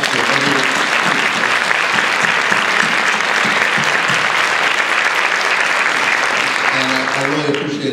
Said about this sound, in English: I'd like to thank the panel and give a round of applause to everyone.